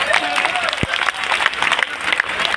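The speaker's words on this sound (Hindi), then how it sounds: "तो सारा देखा तालियां बजाए" Audience applause at a kavi sammelan poetry gathering in Maharajganj, a steady wash of clapping from a crowd with a brief low thump partway through and faint voices mixed in.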